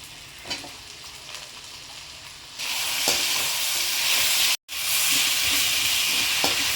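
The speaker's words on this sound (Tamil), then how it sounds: "காய்கள்லாம் போட்டதுக்கப்புறம் நல்லா வந்து எண்ணெயிலே ஒரு 5 நிமிஷம் நல்லா வதங்கிட்டோம்" Potato and eggplant pieces frying in oil, a quiet sizzle that swells into a loud, bright hiss partway through, with a brief cut to silence before the strong frying resumes, close and without speech.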